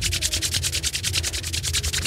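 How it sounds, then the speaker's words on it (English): Two palms rub briskly together in a fast, even back-and-forth rhythm during a breathing practice, producing a close, continuous swishing friction sound with no talking. "We're gonna rub the hands together."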